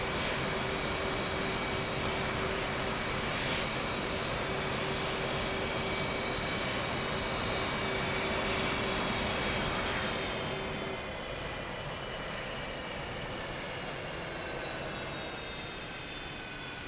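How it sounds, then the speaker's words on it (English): An F/A-18 jet in the DCS flight simulator spools down as its left engine shuts off, a loud, steady turbine roar and whine that slowly drops and thins out with no voices over it. "Turn off the left engine by using the appropriate keybind, RALT+N."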